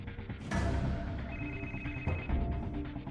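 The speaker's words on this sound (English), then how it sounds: "they can hear her phone ringing in the distance" A mobile phone rings inside an abandoned building, its ringtone tones sustained and fairly clear, with a rumbling, echoey background and no talk over it.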